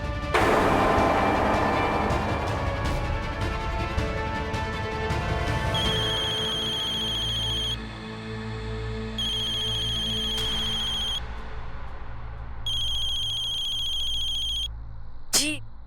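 A mobile phone ringtone plays a repeating electronic tone in several bursts over a steady background bed in a Hindi crime drama scene, ending with a short sweeping effect.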